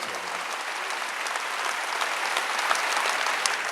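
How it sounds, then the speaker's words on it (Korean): Steady, dense applause from a church congregation during a Wednesday worship service, sustained clapping throughout with no voices standing out. "박수 향하세요."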